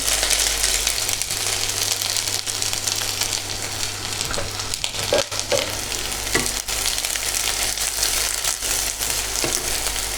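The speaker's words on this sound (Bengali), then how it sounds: "পেঁয়াজটা দিয়ে পেঁয়াজটা একটুখানি ভাজা ভাজা হবে।" Two large chopped onions hitting hot oil and frying with a loud, continuous close sizzle, punctuated by scraping stirs of a spatula, no voices.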